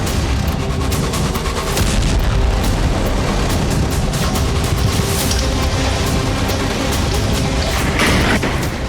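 Continuous heavy booming and crackling blasts from wartime attacks on Ukrainian cities, dense and loud throughout, like distant explosions and gunfire rumbling together without pause.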